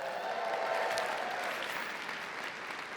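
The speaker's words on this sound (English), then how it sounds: "If I could hear a cheer from anyone in the room that is a solo or small firm" A conference audience at the ClioCon 2025 opening keynote breaks into loud cheering and applause, a thick wash of clapping that holds steady and fades slightly toward the end.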